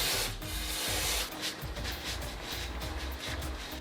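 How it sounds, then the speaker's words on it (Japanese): Paper towel soaked in parts cleaner wiped over the bolt mounting area of a JB23 Jimny during an oil change, a steady close rubbing and scrubbing sound with a brief pause, alone with no voices. "ボルトを戻す前にボルトの取り付け部パーツクリーナーで軽く拭いておきます。"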